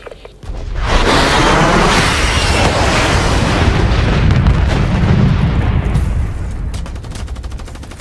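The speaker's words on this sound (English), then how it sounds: "Friendly lightning strike inbound." A lightning strike in Black Ops 3 multiplayer brings heavy, loud explosions that merge into one continuous roaring rumble for several seconds before fading, with rattling gunfire mixed in.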